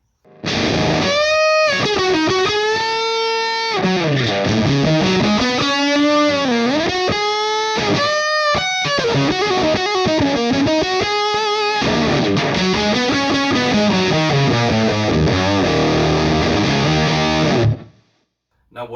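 An electric guitar plays through a JHS Supreme fuzz pedal, giving heavily saturated, buzzing lead lines with bends and sustained notes that cut off abruptly near the end.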